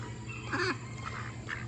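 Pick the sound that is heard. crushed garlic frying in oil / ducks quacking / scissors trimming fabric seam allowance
ducks quacking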